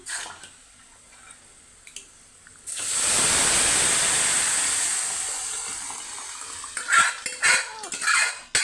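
A sudden rushing pour of lentils into a pan of hot tempering, followed by a sustained hiss, then a few scraping clinks of stirring near the end.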